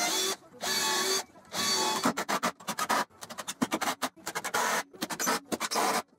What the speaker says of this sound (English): And now I'll add a few screws for extra strength.